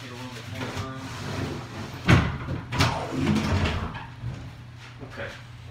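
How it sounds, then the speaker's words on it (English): A closet door is shut indoors, giving a sharp knock at about two seconds and a second softer thud shortly after, close by over low room noise and faint movement. "Let me shut this closet door."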